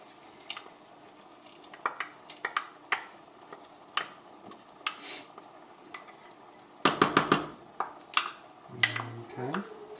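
Chopped onion is stirred into a pot while chili is made, with scattered spoon scrapes and clinks against the metal, a brief burst of louder clattering partway through and a speaking voice underneath.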